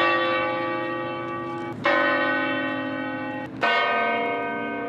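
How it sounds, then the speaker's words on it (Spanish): Almudena Cathedral's church bells ring out loudly, with two heavy strikes a couple of seconds apart, each leaving a long humming decay before the next. "campanas de la Catedral de la Almudena sonaron también para dar inicio a una misa funeral"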